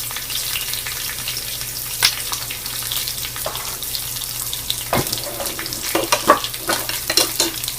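Green chilies, curry leaves and onion fry in hot oil for a ridge gourd lentil curry, a continuous sizzle broken by several sharp stirring clatters and spatters, close and fairly loud, with no talking.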